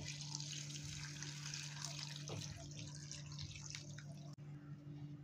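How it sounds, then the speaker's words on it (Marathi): Lukewarm water pours into a bowl in a kitchen, a steady close splashing trickle running for several seconds with no talk. "त्यामध्ये मी आता कोमट पाणी टाकून घेते"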